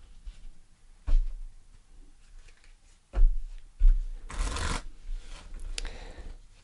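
Tarot cards are shuffled and handled close to the microphone in a few separate bursts of rubbing and riffling, with quiet pauses between them and a longer, brighter shuffle near the middle.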